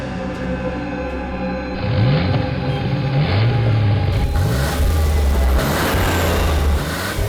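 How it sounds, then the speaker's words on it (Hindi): A car engine revving loudly close by as the vehicle turns, with repeated rising pitch sweeps as it accelerates and shifts, plus a burst of broadband road and wind noise later on. "ये गाड़ी हमारी तरफ क्यों घूम गई है?"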